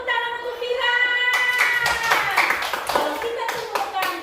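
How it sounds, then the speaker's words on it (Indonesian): Schoolchildren clapping in a classroom, a scattered burst of many small hands that rises after a sustained voice and fades out over a few seconds. "Ya, tepuk tangan untuk Vira."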